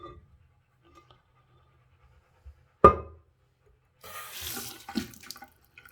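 A water tap being turned on in a vacant house: a sharp click of the handle, then a short, faint hiss and sputter from the faucet amid near silence.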